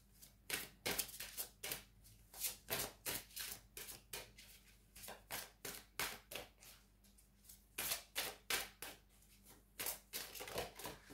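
Oracle cards are shuffled and drawn, giving a quick series of crisp riffling snaps and flicks in irregular bursts, close and fairly quiet, with no talking.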